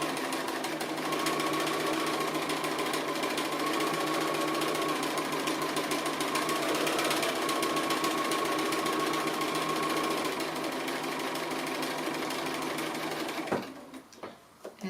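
A sewing machine stitches an appliqué, running as a steady, fast, close mechanical whir for about thirteen seconds before stopping abruptly, followed by a few faint handling clicks.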